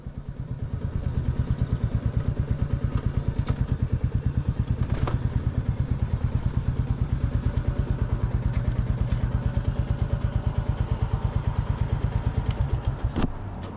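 Royal Enfield Classic 350 single-cylinder engine idling while parked near the River Tyne gorge, a steady rapid thumping beat that stays even and close, with a couple of brief clanks and no talk.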